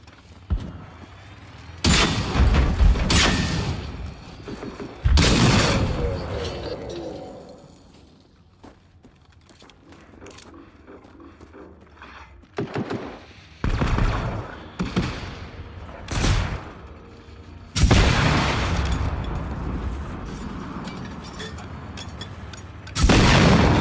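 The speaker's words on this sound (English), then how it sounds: "what the hell is my sniper tower shooting at?" Booming gunfire from a sniper tower in the Generation Zero video game, heavy shots at irregular intervals, some loud and close, others softer, with quieter gaps between them.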